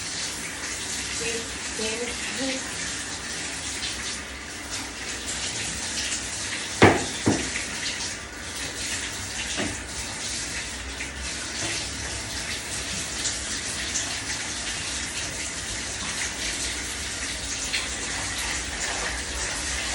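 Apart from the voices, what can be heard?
shower water running in bathroom tub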